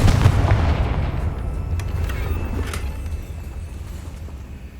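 The Confringo explosive spell in Hogwarts Legacy lands with a close, heavy boom that rolls and fades over a few seconds, with a couple of faint sharp cracks in the tail.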